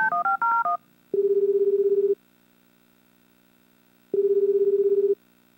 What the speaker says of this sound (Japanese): 佐伯くんに電話しよう。